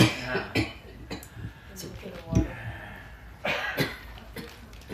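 Several close coughs and throat clearings come in short bursts, scattered among quiet background talk.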